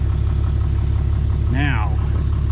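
A truck engine idles steadily after starting, a low continuous rumble close by, with a brief rising voice-like sound over it partway through.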